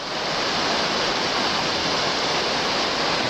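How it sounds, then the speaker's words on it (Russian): A cold, salty, iron-tasting mineral water geyser spouts in the Carpathian village of Vuchkovo, making a steady, loud, broadband rush of gushing water like a waterfall, continuous and close with no pauses. "Да, вот такой вот гейзер у нас есть в Карпатах."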